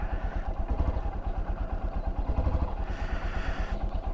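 Close, rapid, even chugging from a 2023 Honda XR150L single-cylinder motorcycle idling as it warms up with the choke on, with a slight dip and recovery near the end and no speech.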